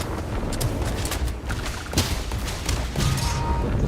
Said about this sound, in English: With the surveyor shotgun.